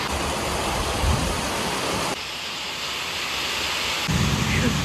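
Heavy rain pours down as a dense, steady roar of broadband noise, loud and close, dipping briefly in the middle before surging back, with no talk over it.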